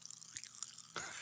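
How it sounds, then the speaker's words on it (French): Popping candy crunched and activated in the mouth right at the microphone, giving faint, quick crackles and tiny snaps over a quiet background. "des petits bonbons que tu mets sur ta langue, puis là, ça éclate. Ça pétille."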